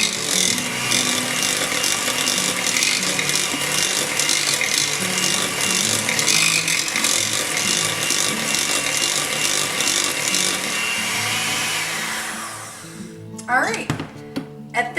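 Cinnamon muffin batter with vanilla being mixed, a steady loud whirring, machine-like drone running for about twelve seconds before stopping, followed by a few clattering knocks.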